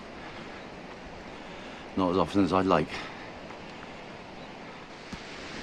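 A river gushes in a gorge far below a hiking trail in Parque de Sierras Cazorla, a steady broad rushing wash heard throughout, with a short spoken remark close to the mic partway through.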